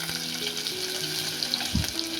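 Onion dropped into hot oil with crackling mustard seeds and cumin, a steady broad sizzle with a low thump near the end, close and continuous with no talk.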